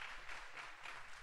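Audience applause at a book presentation on emotional intelligence and antisocial behavior, a steady wash of many hands clapping together, fairly quiet and even throughout with no voices.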